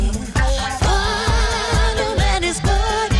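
Excerpt of a pop-rock single by a band played on Dutch radio, with a steady beat of drums, layered guitars and sustained vocal-like melodic lines running continuously without talk.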